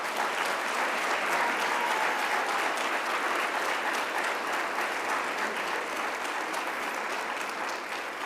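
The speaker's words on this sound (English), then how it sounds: "please turn and face the audience for a well-deserved round of applause" An audience at a business meeting gives honorees a sustained, even round of applause from a full room, steady and unbroken from start to finish, with no talking over it.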